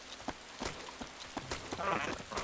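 Steady rain patters and hisses across the ground in DayZ, a dense, even wash of falling drops with faint intermittent thuds beneath it.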